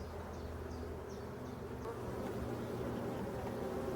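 Honeybees buzzing steadily inside a crowded, nervous hive, a dense continuous hum of many insects held close and loud throughout, with no voices.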